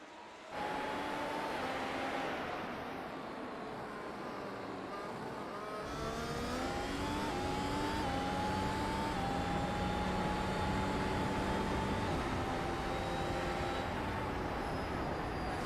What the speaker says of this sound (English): Listen to the sound of that V6 turbo hybrid engine screaming away at the top of his lungs.